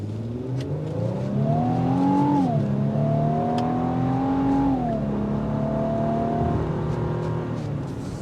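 A 2025 Infiniti QX80 accelerates hard on a test drive, its engine note climbing steadily through gears from inside the cabin with a shift dip, loud and continuous, no talking.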